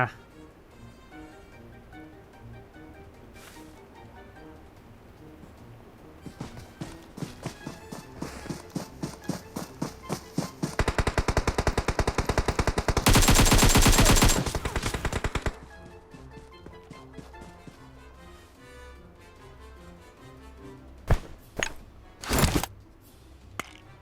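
Automatic gunfire in PUBG Mobile: bursts of rapid shots build into a loud, sustained volley with a sharp peak, then trail off into scattered single cracks and a final short burst.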